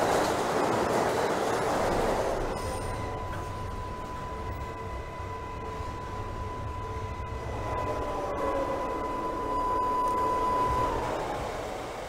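NYCT J subway train, a Queensbound local in Trainz Simulator 2012, rumbles with a steady broadband roar and a long sustained whine building after a louder rushing start, running continuously without talk.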